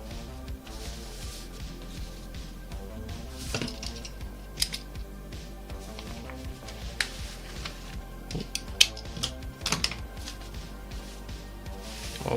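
A rotary cutter trims the edges of bookbinding cases, producing quiet repeated clicks and crisp slicing strokes at irregular intervals over a low steady background hum.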